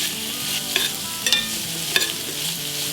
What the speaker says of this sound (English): Just toss to combine,